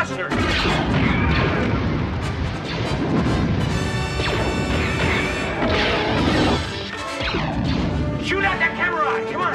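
Star Wars blaster fire during an escape scene with Chewbacca: loud dense volleys of zapping shots and crashes throughout, with shouting voices mixed in over the din.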